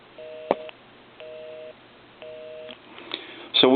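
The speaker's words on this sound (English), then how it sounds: "I want to dial my number. And it'll be busy." A foreign-made desk-style telephone gives three repeated busy-signal tone bursts, each about half a second long with short gaps, loud and close, after a click; a louder clunk of the handset follows at the end.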